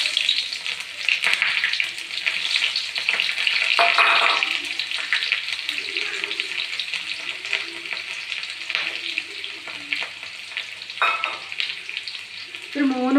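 Onion frying in hot oil just after mustard seeds have popped, a steady close sizzle with occasional stirring scrapes running throughout, no voices.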